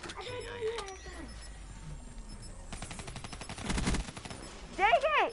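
Gunfire in Call of Duty: Black Ops 3 crackles as quick rapid bursts partway through, then a louder volley near the end, mixed with game effects and faint voices talking.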